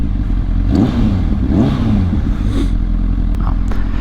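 A 2006 Honda CBR1000RR with an aftermarket exhaust idles loud and close, blipping the throttle into a few rising revs amid mechanical clatter, with no talking.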